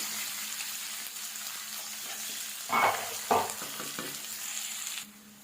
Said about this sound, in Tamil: வெங்காயம் நல்லா கண்ணாடி விட்டு நல்லா வதக்கலாம்